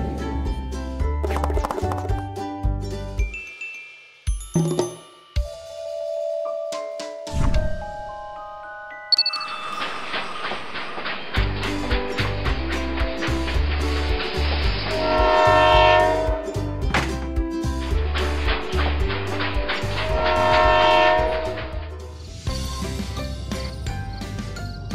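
A BRIO wooden toy train set runs along its track with rattling and clicking, interrupted by bright electronic horn and whistle toots, plus tonal musical passages, close and fairly loud with no talking.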